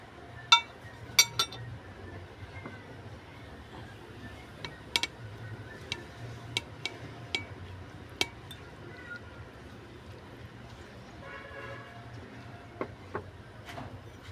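Fish and egg being mixed in a bowl for fishballs, with sparse sharp clinks of a utensil against the bowl over a soft, steady background hum; no talking.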